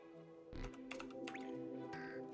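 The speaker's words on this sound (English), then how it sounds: "Let me type into the thing" Keyboard typing inside a Sam & Max Save The World game session, a short run of soft key clicks under constant background game music and ambience.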